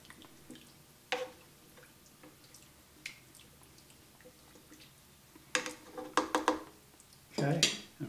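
A spoon clinks against a pot while Mexican pinto bean soup with beef broth is stirred, giving soft scraping and liquid sloshing with a few louder metallic knocks near the end and quiet background noise.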